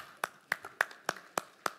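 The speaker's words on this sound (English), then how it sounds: "So let me give you a clap." Six slow, evenly spaced hand claps from a church congregation, crisp and fairly quiet, each one standing alone against a hushed room.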